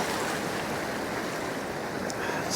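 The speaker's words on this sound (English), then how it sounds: "Still some pretty big surges coming in at the minute" Big surf surging onto Beadnell beach in North East England, a steady broadband wash of breaking waves with wind, continuous and fairly loud throughout, no voices.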